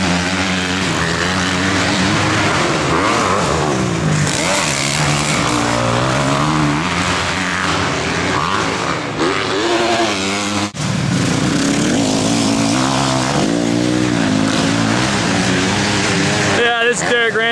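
Motorbikes racing laps on a dirt track, engines whining and rising and falling in pitch as they pass, loud and continuous, with overlapping riders and a brief cut midway.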